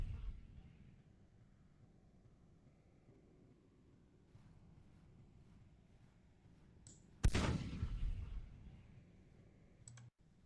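Musket and artillery fire from a Civil War strategy game, Grand Tactician: The Civil War, at First Bull Run: a low rumbling battle bed, then one loud sharp blast that decays slowly and a brief crack near the end, with no talking.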